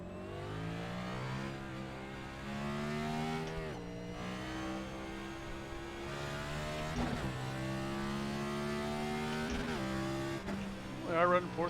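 A NASCAR Next Gen race car in iRacing runs at Richmond, its engine droning and revving steadily through gear changes, with a brief tire squeal near the end.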